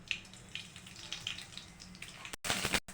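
Mustard seeds splutter in hot oil in a kadai, making faint, close crackles and small pops that turn louder and denser near the end.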